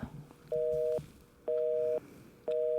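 A telephone busy signal while dialing a government tax office call center on Guam: three loud, steady half-second tones evenly spaced about one second apart, with faint background sound between them.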